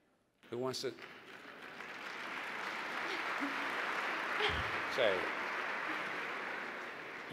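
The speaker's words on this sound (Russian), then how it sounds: "Вы, наверное, очень популярны, потому что вам аплодируют." An audience claps at a talk, breaking into sudden applause that swells and holds steady, with a voice briefly heard at the start.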